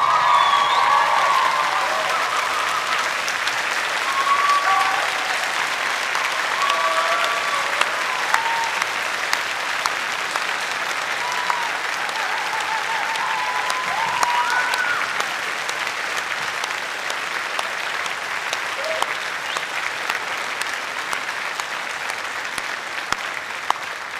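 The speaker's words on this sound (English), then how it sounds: "turn to wherever your supporters are in the hall and give them a great big cheer." Graduation supporters in a ceremony hall break into sustained applause and cheering, a steady wash of clapping lasting over twenty seconds with scattered whoops.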